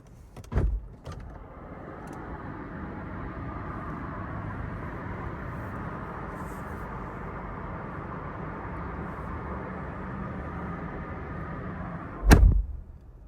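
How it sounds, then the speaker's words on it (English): Steady low road rumble and tire roar heard from inside the cabin of a Mercedes GLE or Lexus RX Hybrid, with a couple of sharp clunks near the start and a loud thump near the end. "we're going to test out how good it is keeping the outside noise out."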